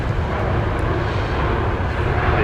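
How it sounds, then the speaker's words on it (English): An Airbus A350-900 comes in to land on runway 19 left at Brisbane Airport at night, its engines a loud, steady, broadband roar that holds constant throughout. "The A350 900 coming in, runway 19 left."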